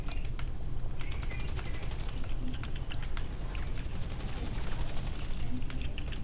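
Rapid gunfire in a video game, a dense continuous rattle of shots over a loud rumbling background that runs without a break for the whole stretch.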